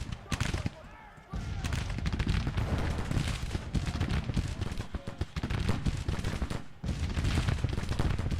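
Cannon and rifle fire in the Civil War strategy game Grand Tactician, a dense barrage of booming shots and crackling volleys that rolls on almost continuously, dropping out briefly twice.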